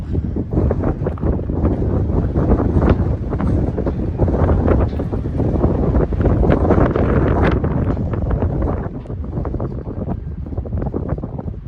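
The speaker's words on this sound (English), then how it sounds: "It's pretty windy out here, as always." Strong wind roars continuously outdoors near Chugwater, Wyoming, buffeting the microphone with heavy low rumbling gusts throughout.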